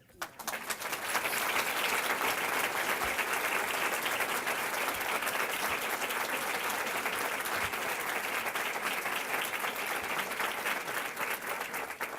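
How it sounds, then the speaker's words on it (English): Sustained round of applause from an audience at a YWCA gathering, dense steady clapping that fills the room for the full stretch without letting up. "give a wonderful, wonderful round of applause to all the sheroes and, yes, heroes that make the YWCA board,"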